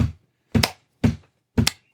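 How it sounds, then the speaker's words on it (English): Four sharp hand claps spaced about half a second apart in a steady rhythm, close and loud with silence between them and no talking. "I need you to clap a rhythm"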